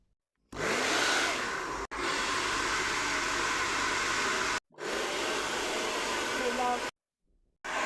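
A hair dryer blows with a loud, steady roar that cuts off briefly and restarts a few times, ending in a short pause before a last faint burst.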